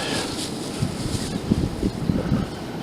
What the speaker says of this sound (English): Wow, this wind is really crazy today.